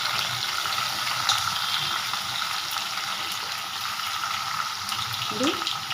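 Chopped ridge gourd, tomato and green chillies frying in oil for a chutney, a steady close sizzle that holds throughout with a brief stirring scrape near the end.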